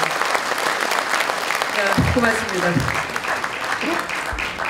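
Applause fills a Korean Democratic Party rally held for the success of the PyeongChang Olympics: a steady, loud crowd clapping throughout, with a voice speaking over it midway.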